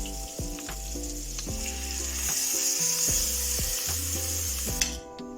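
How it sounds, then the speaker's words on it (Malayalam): Mackerel fries in hot coconut oil with a loud, steady sizzle and crackle close by, while background music with a steady beat plays, and the frying cuts off abruptly near the end. "നമുക്ക് ഈ അയില ഇതിൽ വെച്ച് വറുത്തെടുക്കാം"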